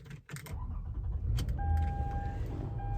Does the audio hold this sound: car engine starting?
yes